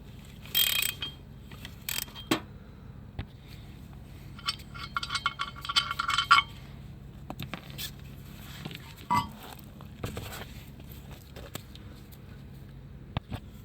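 Socket wrench ratcheting on plastic fasteners under a 2011-2015 Chevy Cruze 1.8L, heard as scattered short mechanical clicks and bursts of clatter, close and moderately loud over a low steady background hum.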